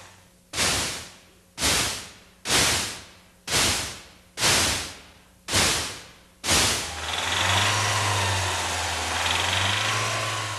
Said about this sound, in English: connecting rod bearings, when worn, make a distinctly recognizable sound